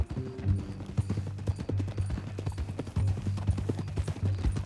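Horse hooves clip-clop at a steady trotting rhythm in the Red Dead Redemption 2 video game, close and continuous over low game ambience, with no talking.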